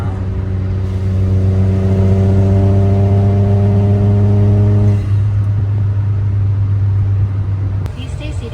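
A Tri 7000 JDM mini truck fitted with dually wheels idles and revs in a loud, steady low drone with layered harmonics that drops in tone partway through, heard up close.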